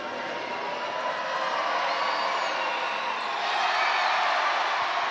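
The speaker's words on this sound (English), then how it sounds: "Misses both. Crowd's very happy about that." A basketball crowd at a New Zealand national league game between the Canterbury Rams and Manawatu Jets roars steadily in cheers after missed free throws, swelling louder toward the end.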